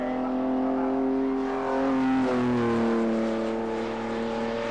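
Caterham and other sports cars racing on a circuit at a Jaguar Car Club event in 1995, engines droning continuously at moderate distance, with a brief shift in pitch as the cars battle for position.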